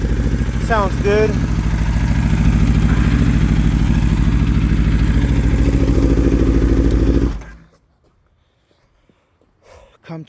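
A 2021 Aprilia RSV4 Factory 1100 motorcycle engine, cold, rumbles steadily at idle with a brief rev, loud and close, with a voice briefly over it near the start, then cuts off into near silence.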